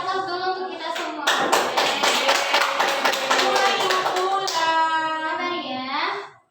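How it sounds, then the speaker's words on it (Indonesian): Applause from a classroom of students, a burst of many hands clapping that rises quickly and holds for several seconds before fading, with a teacher and children speaking before and after it. "kasih aplaus dulu untuk kita semua"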